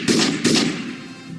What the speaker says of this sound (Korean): 총소리가 진동했다.